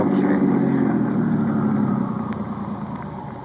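A car engine runs steadily in a low, rumbling drone, fairly close and even, easing slightly quieter toward the end with no talk over it.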